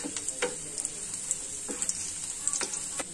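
Ginger frying in hot oil with onions and beans gives a continuous bright sizzle, punctuated by several sharp spatula scrapes and taps at an uneven pace, close up with no voices.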